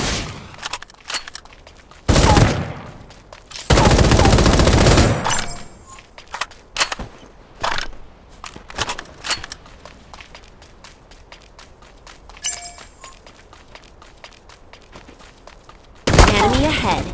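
Gunfire in the mobile battle royale game Super Mecha Champions, loud bursts of shots and volleys, with footsteps and smaller impacts filling the gaps between them.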